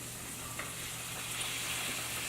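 Green beans frying in a hot pan give off a steady, close sizzle with a faint crackle, continuing evenly without any talk.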